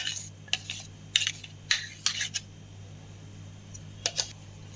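Tomato and chickpea chutney scraped from a pan into a bowl with a utensil, a string of short metallic scrapes and clinks in bursts, close and fairly quiet over a steady low hum.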